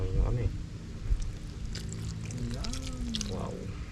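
Liquid pours and splashes into a cooking pot over several seconds, up close, with a voice speaking briefly and light kitchen clatter.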